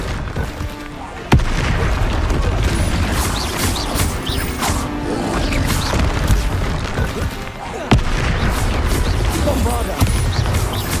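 Spell blasts and explosions from magical combat in Hogwarts Legacy, loud and continuous, with sharp cracks punctuating a dense rumbling barrage while voices shout over the chaos.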